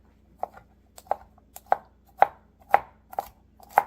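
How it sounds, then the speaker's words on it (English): A sharp chef's knife chops garlic on a cutting board in sharp, close taps, about seven strikes at an uneven, unhurried pace. "I'm going to put the garlic onto the cutting board, and I'm going to start chopping it"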